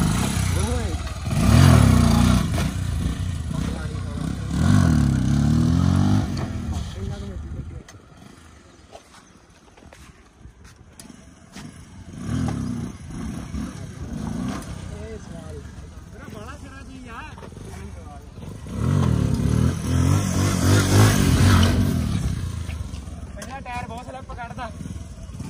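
A Kawasaki H2R motorcycle engine revs in rough bursts during stunt practice, its throaty roar rising and falling nearby while people talk over it through much of the stretch.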